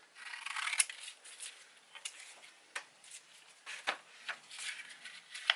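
Sandpaper being cut for wet sanding carbon fiber on a skateboard deck, a series of faint, scattered snips and rasping scrapes spaced irregularly, close and quiet.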